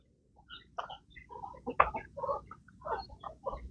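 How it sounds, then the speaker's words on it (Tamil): A rooster on a farm with hens close by gives a run of short, clucking calls, close and moderately loud, with no talking. "அப்புறம் இங்கே ஒரு சேவல் இருக்குங்க"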